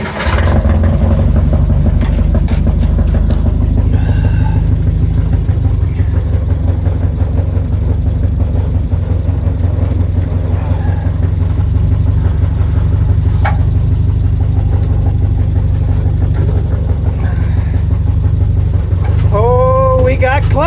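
A 1958 Willys DJ-3A Dispatcher engine runs steadily with a low, loud idle throughout, a few revs and clunks mixed in, while someone talks over it near the microphone.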